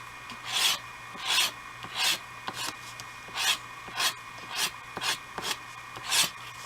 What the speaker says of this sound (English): all I'm going to do is just take an edge, and I'm just going to scrape in a diagonal motion